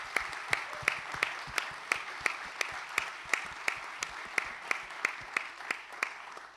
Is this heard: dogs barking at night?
no